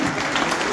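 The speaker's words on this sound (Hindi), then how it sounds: "एक बार तालियां बजा करके उनको विनम्र प्रणाम करने का" A crowd at a BJP Ambedkar Jayanti celebration breaks into a short, dense burst of steady clapping, loud and continuous.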